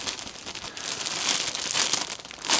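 A plastic bag from a Tamiya BBX radio-controlled car kit crinkles and rustles continuously at close range, with loud crackling bursts and no talking.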